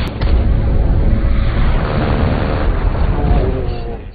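A ship blows up in a James Bond film, a loud, continuous roaring explosion with heavy rumbling low end that sustains for several seconds before fading, no voices over it.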